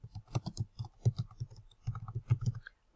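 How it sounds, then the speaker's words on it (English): Fingers tap out a file name on a computer keyboard in quick, close bursts of key clicks, pausing briefly midway before another run of keystrokes, with no talking. "now I'm going to type in my first name in the file name box"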